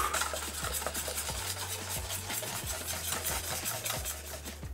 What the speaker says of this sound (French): et on remue aussitôt